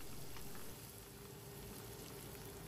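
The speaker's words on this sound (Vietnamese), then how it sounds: "Lần hai này mình chiên khoảng 3 phút là cái miếng đậu hũ nó vàng." Tofu fries in oil over high heat, giving a steady, dense crackling sizzle that runs continuously and fairly quietly, with no talking.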